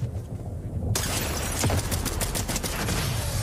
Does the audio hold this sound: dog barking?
no